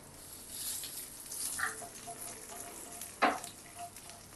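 Black mustard seeds and radhuni sizzle in hot mustard oil for a tempering, giving a soft, steady hiss with scattered crackles and one sharper pop near the end.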